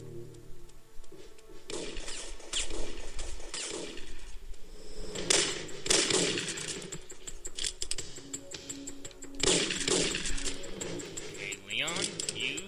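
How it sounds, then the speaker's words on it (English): Shotgun fire in Syphon Filter 3, several sharp metallic blasts spaced a few seconds apart amid clanking game effects, with a voice talking underneath. "Shotgun."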